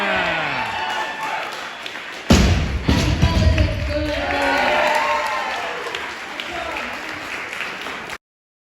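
At a masters weightlifting championship in Ontario, a sharp heavy thud is followed by a crowd breaking into sustained applause and cheers that swell, then taper off, with voices talking over the clapping.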